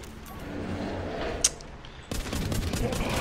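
Gunfire and a stun grenade blast in The Walking Zombie 2 video game: a sharp bang near the middle, then a dense burst of shots that keeps going to the end, with no talk.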